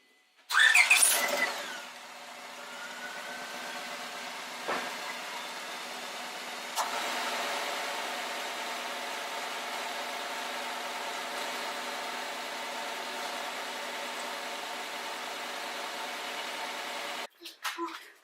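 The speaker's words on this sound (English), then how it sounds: "I just gotta start the car, check for leaks." A 1998–2002 Honda Accord engine cranks and catches after a radiator replacement, then settles into a steady, even idle heard close by for well over ten seconds before the sound cuts off.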